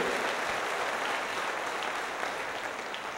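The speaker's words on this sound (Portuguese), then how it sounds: "dê um forte aplauso a Jesus" A church congregation applauds in praise during a sermon, a dense, loud and steady wash of clapping with no voices on top.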